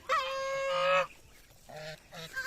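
Ducks call outdoors on a countryside range: a long nasal honk is followed by two shorter calls, close and fairly loud.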